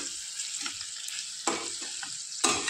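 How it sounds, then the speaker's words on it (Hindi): Chicken frying in a pan with turmeric and chili powder, stirred repeatedly: a steady close sizzle with sharper scraping strokes of the spoon at intervals, no voices. "आता आपल्याला चिकन फ्राय करायचं आहे, म्हणजे यातच सतत हलवत राहायचं आहे"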